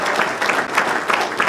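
An audience at a Hall of Fame program claps in tribute to Wells Crowther, a dense, loud applause from many people sustained through the whole moment with slight pulsing swells.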